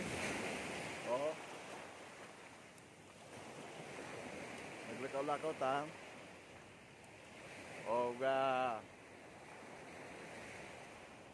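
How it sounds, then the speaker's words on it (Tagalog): Sea waves at a beach wash in a steady, broad rush under strong wind, with voices speaking briefly over the surf. "Nindot ang dagat diri."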